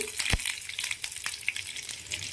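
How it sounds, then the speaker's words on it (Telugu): Curry leaves and dried red chillies frying in hot oil in a pan, a steady crackling sizzle with sharp spits and pops throughout, close and fairly loud, no voices. "కొంచెం కరివేపాకు వేసి మంచిగా వేయించుకోవాలి."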